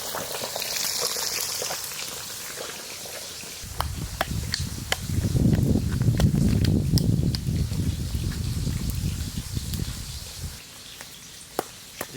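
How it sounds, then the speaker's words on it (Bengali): Live singi fish frying in hot oil in a wok in a home kitchen, a dense crackling sizzle that swells loudly midway with sharp pops, then settles back down. "দাদা কড়াইতে মাছ দিয়ে দিছি"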